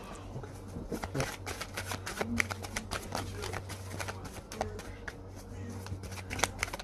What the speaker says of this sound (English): I am going to pull a couple of these cards.